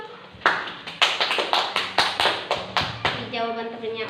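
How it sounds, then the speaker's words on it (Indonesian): A classroom group claps together in a short burst of brisk, fairly even applause that lasts a few seconds, with the sharp claps standing out clearly and a voice briefly audible underneath. "Aplaus dulu dong."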